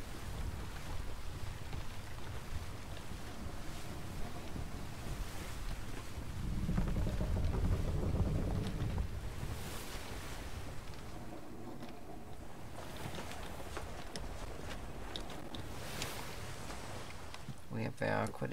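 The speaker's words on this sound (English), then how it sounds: "Quite a bit of wind." Steady wind blows across open sea in a naval role-play game, a continuous broadband rush with a surge of low roar midway and brief scattered clicks near the end.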